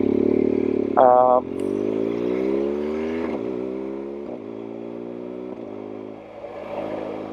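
A BMW R1200GS motorcycle being ridden, its engine droning steadily with shifting pitch as it changes speed, close and continuous throughout.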